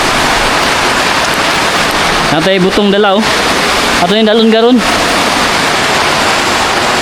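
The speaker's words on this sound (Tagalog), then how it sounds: "Ulan na kaya itong mga tanom." Heavy rain pours steadily onto garden plants and durian trees, a dense unbroken hiss that fills the whole stretch, with a person talking twice over the downpour.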